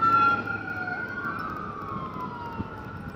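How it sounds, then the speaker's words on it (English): An ambulance siren wails as the vehicle passes at moderate distance, its pitch sliding down under traffic rumble. "there goes the ambulance by"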